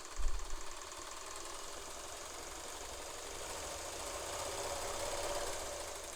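A sewing machine running flat out at full speed, a steady close whirring hum with a fast mechanical rattle that holds evenly throughout, after a brief bump at the start.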